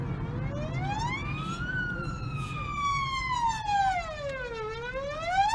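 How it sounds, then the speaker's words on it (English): A wailing siren sweeps slowly up and down, fairly close, over the low drone of road traffic. "ambulance is behind us."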